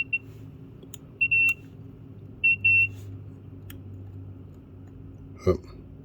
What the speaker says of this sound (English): Get it the right way round and they should light up and beep.